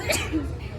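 A single quick, close sneeze bursts out at the very start, then fades into background chatter at a Halloweekends 2022 amusement park event.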